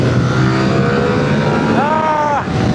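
A CFMOTO IBEX 450 motorcycle rides on asphalt, its engine droning steadily under wind rush, with a brief rising rev near the end; a rider's voice is faintly present.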